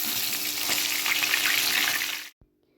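A fish head frying in a pan gives off a steady, loud sizzle that runs unbroken and then cuts off sharply, with a brief faint knock afterward.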